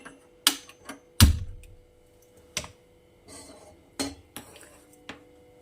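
A metal pot filled with water is picked up and set down on a gas stove in a home kitchen, giving a few sharp clanks and knocks spread out with quiet gaps between them.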